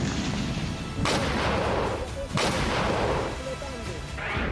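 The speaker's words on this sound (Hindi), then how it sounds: "फिर अगले कुछ ही पलों में एक के बाद एक कई धमाके होते दिख रहे हैं।" Several heavy explosions boom one after another, each a loud broadband blast with a rumbling tail, over continuous noisy background.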